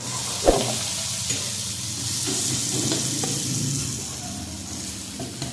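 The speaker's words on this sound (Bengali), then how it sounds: "এখন ভাজা আলুগুলো মশলার মধ্যে দিয়ে আর একটু কষাবো" Fried potatoes stirred into spice paste in a pan give a close, steady sizzle with scraping and stirring, opening with a sharp clack and a few soft knocks of the spoon.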